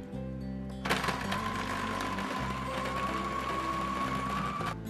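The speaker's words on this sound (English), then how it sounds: "This is like an incredibly fast mixer." A very fast electric mixer whips chocolate soufflé batter, starting abruptly and holding a steady high-pitched mechanical whir for about four seconds before cutting off.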